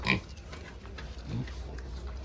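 Piglets at an outdoor market grunt and squeal in short bursts amid background chatter and steady crowd noise, the oinks fairly faint and scattered.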